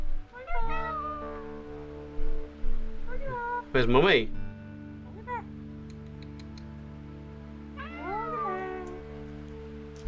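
A cat meows a few times up close, mixed with a person talking softly to it.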